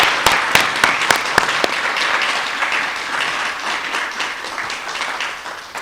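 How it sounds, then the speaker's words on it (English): A crowd at a student leadership awards ceremony breaks into lively applause, opening with a few loud, crisp claps up front before settling into a steady, even roar of hands that gradually softens. "Can we please give these folks a big round of applause?"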